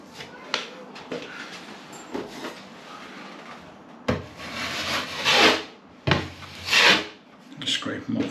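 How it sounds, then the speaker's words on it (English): Filler being scraped off around a newly fitted bathroom ceiling downlight with a blade, giving repeated rasping strokes that build and fade, louder in several sweeps near the end, with brief softer rubbing earlier. "Just scrape them off."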